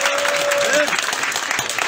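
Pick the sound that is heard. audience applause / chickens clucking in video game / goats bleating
audience applause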